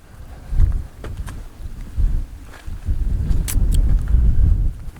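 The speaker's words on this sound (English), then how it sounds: "It's a little windy, so this is going to be a good test for this mic." Low, rumbling wind buffets the microphone in uneven gusts outdoors at Dolly Sods, with a few faint scrapes and taps on top.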